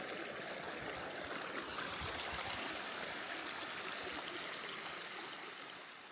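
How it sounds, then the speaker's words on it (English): Mountain creek waterfall near a summit, a constant rushing, hissing flow of water close by that stays steady throughout, fading slightly at the end, with no voices. "Squeaks, you found a pretty nice waterfall."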